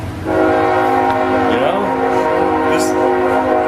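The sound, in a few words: train horn blowing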